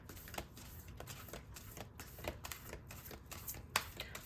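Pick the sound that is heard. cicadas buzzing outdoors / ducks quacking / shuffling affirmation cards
shuffling affirmation cards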